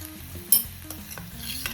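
Ginger garlic paste fries in oil with turmeric in a pan, a quiet steady sizzle with a single sharp utensil tap on the pan during a brief stir.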